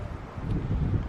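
Strong wind gusts across an outdoor viewpoint in Barcelona on a chilly day, a steady low rumbling buffet against the microphone lasting about a second, with no talking.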